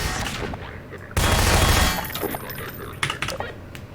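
Rapid turret gunfire in Half-Life 2 rattles in a dense burst amid busy game noise, with scattered sharp impacts and clicks following.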